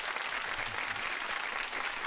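A small group in a radio studio claps steadily throughout, a dense even patter of hands with no breaks, fairly soft and close.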